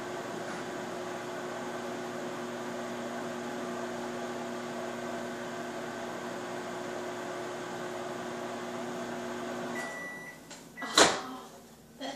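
A microwave oven hums steadily while heating pizza bubble bread, a constant mechanical drone that stops near the end and is followed by a short ding and a faint clatter.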